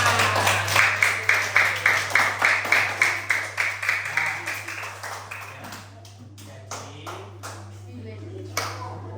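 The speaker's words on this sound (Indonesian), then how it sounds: "tepuk tangan untuk kelompok 4." Group applause in a classroom, a burst of rhythmic clapping from several people that starts strong, then thins and fades toward the end, over a steady low electrical hum.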